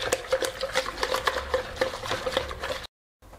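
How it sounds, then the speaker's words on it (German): Pudding is whisked vigorously, a close rapid series of rhythmic wet clicking strokes lasting almost three seconds before cutting abruptly to silence, with no talk. "den Pudding kräftig mit dem Schneebesen durchrühren"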